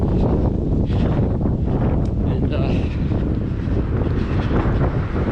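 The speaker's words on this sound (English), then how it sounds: "Just a little breezy" Wind buffets a microphone during a marathon run, a loud, constant rushing roar that fills the whole stretch without letup.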